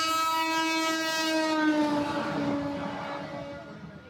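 A train rolls past with its horn blaring a sustained, harmonic blast that slowly drops in pitch and fades as the train moves away, over a low rumble of wheels.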